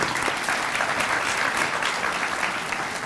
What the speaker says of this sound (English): give them a round of applause for that commitment